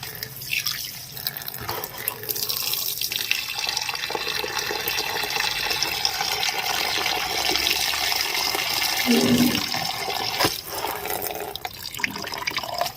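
Tap water runs steadily and loudly while betel leaves are rinsed by hand for mukhwas, with small splashes and drips. The flow continues unbroken through the whole stretch.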